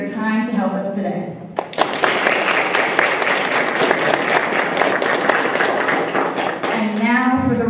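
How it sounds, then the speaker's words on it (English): A spelling bee audience breaks into loud, sustained applause for the judges, dense clapping lasting about five seconds, with a speaking voice just before it starts and again as it fades. "please join me in a round of applause for our judges who have graciously volunteered their time to help us today"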